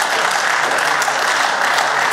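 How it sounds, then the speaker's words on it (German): Steady applause from a parliamentary chamber during a speech by the Freie Wähler leader on asylum policy, dense and even for its full length with no voice over it. "Applaus"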